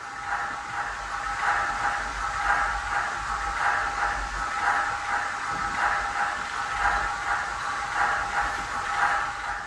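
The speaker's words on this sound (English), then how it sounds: "on the GS4, as you can see right here and here, we have dual cross-compound air pumps" GS4 steam locomotive model with a Tsunami2 sound decoder running its dual cross-compound air pumps, a steady rhythmic chuffing pulse repeating about every second, mechanical and continuous with no talk.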